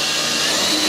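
Power drill driving a screw through a carbon fiber side skirt into a C8 Corvette body, a steady close whirring buzz held for under a second.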